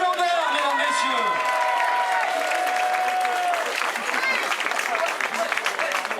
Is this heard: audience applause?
yes